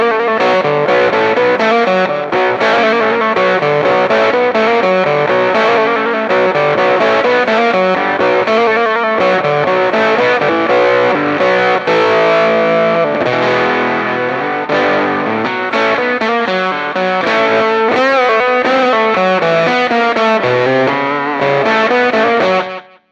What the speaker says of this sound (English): next up is the same pedal in the Fuzzface mode. Not quite as much fuzz, but it's a lot more responsive